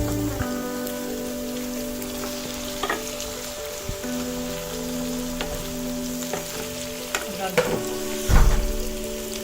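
Cauliflower and potatoes frying with garlic paste and turmeric in a pan, a loud steady sizzle with scattered crackles and a few clanks of stirring, with no voice over it.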